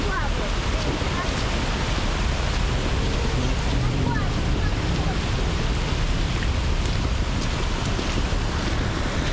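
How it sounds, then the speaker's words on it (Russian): Cars push through a flooded street after heavy rain in Vlorë, Albania, with continuous loud water rushing and splashing under wind noise and traffic rumble. "машины едут, плывут"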